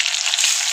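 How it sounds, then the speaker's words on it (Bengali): Green chillies and bay leaves fry in hot oil with a loud, dense, steady sizzle heard up close. "তেজপাতা আর লঙ্কাকে ভালো করে ভাজবো"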